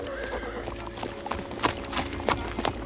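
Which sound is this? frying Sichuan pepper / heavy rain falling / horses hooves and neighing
horses hooves and neighing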